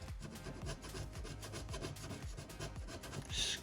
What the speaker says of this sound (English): scrape off all the glue